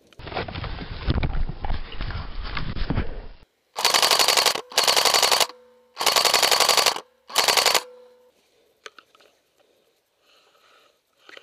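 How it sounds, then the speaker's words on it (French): Airsoft guns firing in bursts during an outdoor skirmish game, with several loud rapid volleys separated by short gaps after a stretch of rumbling noise, then fading to faint scattered clicks. "Ça tire."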